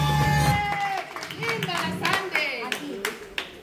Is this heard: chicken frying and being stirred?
no